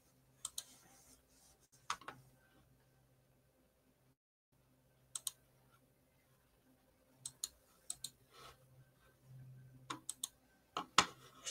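Computer mouse clicks sound sparse and close while refreshing a website, coming as single sharp ticks and small clusters separated by quiet gaps, with faint keyboard-like tapping.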